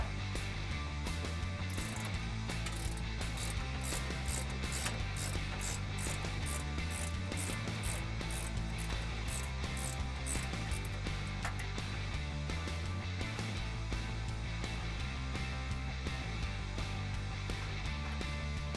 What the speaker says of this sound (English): I'm gonna use the ratcheting wrench to get that off